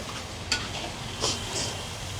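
Shrimp sizzle in a pan at a makeshift roadside eatery while being stirred by hand, a steady fry hiss broken by a few sharp scrapes and clinks of the utensil against the metal.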